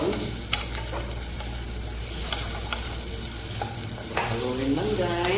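Garlic and onion sizzle steadily in a hot pan for chicken wings adobo, with close scraping and tapping of a utensil stirring them and a faint voice near the end.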